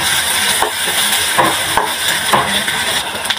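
Ginger paste and spices frying in a pan for a Bengali taro-leaf dish, giving a steady close hiss and sizzle with a few soft clatters of stirring throughout.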